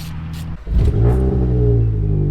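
A Nissan Sentra autocross car's engine rumbles at idle, then revs up slowly and holds a steady, loud, strained drone that climbs only sluggishly.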